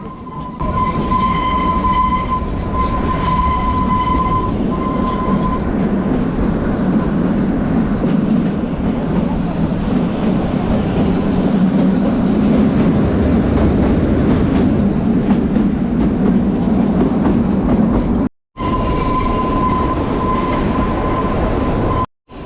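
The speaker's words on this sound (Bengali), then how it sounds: "সময়ের 10 মিনিট পরেই এই ট্রেনটিও ছেড়ে দিয়েছে" A train on the Kalka–Shimla mountain railway rumbles loud and close for about twenty seconds, with steady rolling wheel and carriage noise and a faint high whine, cutting out briefly near the end.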